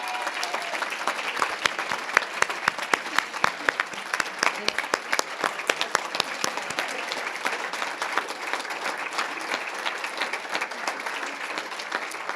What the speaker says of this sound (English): please stand for another round of applause